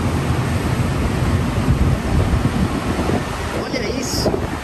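Spray from the Salto Barão do Rio Branco waterfall in Prudentópolis, Brazil, makes a continuous loud rushing roar, close and unbroken, with gusty wind buffeting mixed in.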